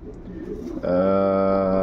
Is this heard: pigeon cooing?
yes